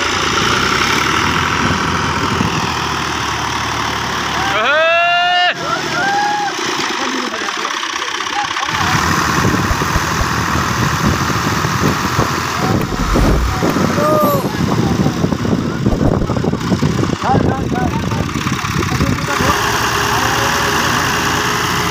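An Al-Ghazi tractor's engine runs steadily while the tractor sits stuck in swampy mud, its tyre spinning and sinking. The rumble is continuous and fairly loud, with people talking over it at times.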